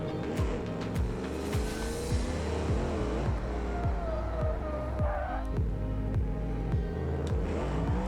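Race cars in a BeamNG racing game, engines droning and shifting steadily as opponents run close by, with rising and falling revs, gear changes and faint tire noise throughout.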